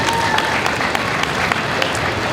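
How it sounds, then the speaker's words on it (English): Audience applause at the Replay FX 2015 costume contest for a contestant in a fan-cooled costume of about 20 pounds: dense, steady clapping from a crowd that holds at an even level throughout. "Big round of applause for Derek."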